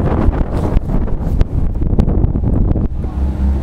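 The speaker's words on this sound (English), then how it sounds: "If anything, the wind is getting stronger in this second 500." Strong wind buffets across an open rowing course on the water during a women's race, a loud continuous rumbling roar with gusty bursts and crackly pops from the gusts hitting close by.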